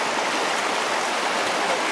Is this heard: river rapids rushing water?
yes